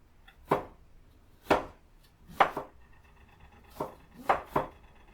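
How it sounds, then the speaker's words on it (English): A knife slices apples on a cutting board in a home kitchen, six crisp separate cuts spaced unevenly about a second apart, close and fairly quiet with no talk. "We're going to slice them about 1/4 inch thick."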